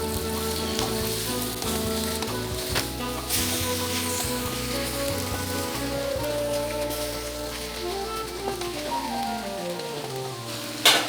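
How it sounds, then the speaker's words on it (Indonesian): Beef dropped into margarine with fried spices sizzles and crackles steadily in a pan, a dense continuous hiss with occasional clinks and stirring sounds. "Setelah semuanya menguning dan harum, kita masukkan dagingnya."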